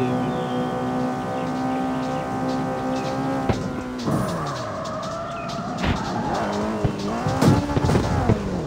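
Car skidding and crashing in a racing video game, a sustained engine drone with tire squeal that breaks into several sharp impact bursts toward the end, loud and close.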